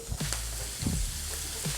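Steady frying sizzle of minced garlic and chili flake in olive oil on low heat in a pan, with a few soft clinks and stirring sounds on top, close and continuous.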